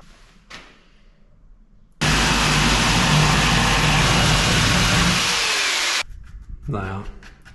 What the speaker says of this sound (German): Und dann säge ich jetzt das erste Mal mit einer Stichsäge.